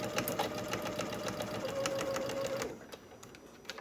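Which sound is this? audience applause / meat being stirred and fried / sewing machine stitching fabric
sewing machine stitching fabric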